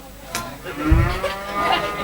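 A cow on a Bangladeshi cattle market for Qurbani gives one loud, close, deep moo lasting about a second, with a brief sharper call just before and faint background noise around it.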